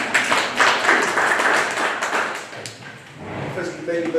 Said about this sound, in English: Our colleagues will clap hands.